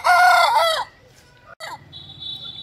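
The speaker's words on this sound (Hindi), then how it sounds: "अरे मेरा प्यारा मुर्गा है" A rooster crows loudly and close by in one long call, followed by quieter clucking and a faint background tone.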